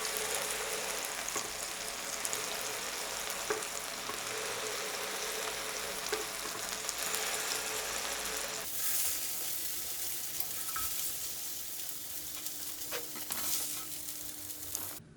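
Tteokgalbi patties sizzle and fry steadily in a pan as they are flipped. The loud hiss shifts partway through, and no one talks.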